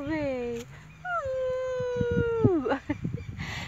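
At a rural farm, a person imitates a drawn-out howl and a dog answers with wavering, whimpering howls, two long rising-and-falling cries close by, followed by brief yips and rustling.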